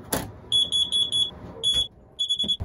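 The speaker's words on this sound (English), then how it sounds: "My carbon monoxide alarm went off" A carbon monoxide alarm sounds in sharp, rapid high-pitched beeps that come in repeated clusters with short pauses, loud and near, over faint indoor noise.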